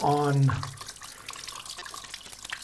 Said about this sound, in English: I'm just going to go back here to my sink and rinse it off